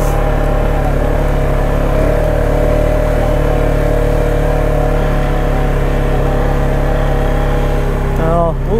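A 2019 Polaris Sportsman 570 X2 ATV engine idles steadily nearby while warming up, a continuous low rumbling hum with little change in pitch throughout.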